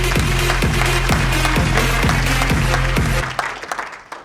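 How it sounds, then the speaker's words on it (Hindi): Audience applause at an indoor gathering as a new attendee is introduced: dense, loud clapping runs steadily over a rhythmic thumping beat, then thins out and fades over the last second. "एक बार जोरदार तालियां"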